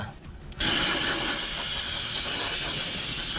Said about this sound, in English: get the steamer, but make sure you clear it out